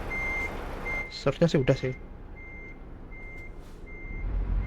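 A truck in Euro Truck Simulator 2 sends out steady, evenly spaced reversing beeps heard from the cabin view, briefly interrupted by someone speaking over low engine rumble.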